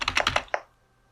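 Rapid run of computer keyboard keystrokes, about six crisp taps in quick succession entering a query on a Spectrum Next, then quiet.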